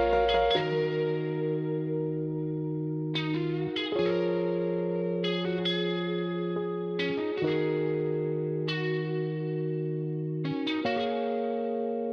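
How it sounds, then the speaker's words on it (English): A musical sample processed through the XLN Audio RC-20 plugin, with a repeating pattern of plucked or struck tonal notes and sustained low tones, saturated and wobbly with lo-fi coloration, playing steadily alone. "I'm sure most people know what RC-20 sounds like,"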